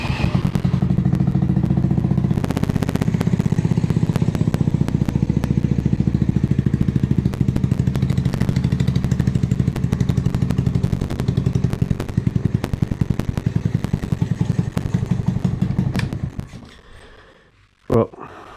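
A 2024 Honda Navi motorcycle with a smoke exhaust runs at a rapid, rattling idle, a loud continuous popping putter close by that cuts out near the end with a final thump.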